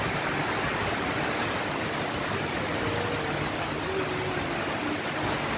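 Steady broadband rain hiss from a storm, falling on plants and trees under a tin roof, continuous and even throughout with no voices.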